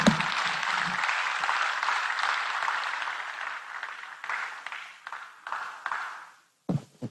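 Audience applause at a South East venture capital investment ceremony, a sustained wash of clapping that thins into scattered claps and fades out, with a couple of brief bursts at the end.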